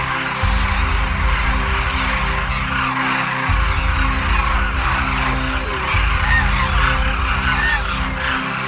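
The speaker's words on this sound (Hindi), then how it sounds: "कीचन दरअसल खतरे से घिरी एक पक्षी प्रजाति डेमोइसल क्रेन का एक नियमित शीतकालीन आवास बन गया है" Demoiselle cranes call at their winter roost in Khichan village, Rajasthan, a dense continuous chorus of honking, trumpeting calls from a large flock, heard loud and steady throughout.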